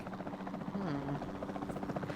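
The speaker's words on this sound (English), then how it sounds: "Then the sensible thing is to take a capture team helicopter." Steady droning rotor and engine noise of a capture team helicopter in Jurassic World Evolution 2, a continuous mid-loud whir with a brief rising tonal whine partway through.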